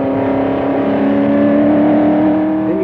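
A racing car on the Le Mans circuit in 1968 accelerates down a short straight toward Tertre Rouge, its engine a loud, steady high-revving drone filling the whole moment.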